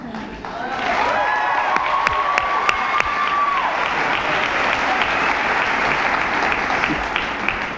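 Loud applause and cheering from families in a large hall at a high school graduation ceremony, with whoops and shouts over a thick, sustained wash of clapping that starts abruptly and holds steady.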